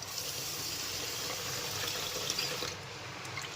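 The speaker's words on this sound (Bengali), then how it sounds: "আমি চালটা এখন একটু ধুয়ে দিই" Rice being rinsed with water in a pot while making khichuri, a steady close wash of sloshing, running water that fades slightly near the end, with no talking.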